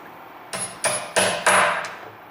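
Four hammer strikes ring out close and loud in a steady rhythm on a DIY air blast system for a CNC mill, each blow followed by a brief metallic ring, then a lighter tap.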